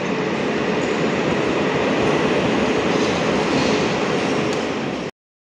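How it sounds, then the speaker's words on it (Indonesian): Jakarta-Bandung high-speed train running: a steady, loud broadband rumble and rush of rail travel that holds evenly for about five seconds, then cuts off abruptly. "dengan kereta api yang baru yaitu kereta cepat Jakarta-Bandung"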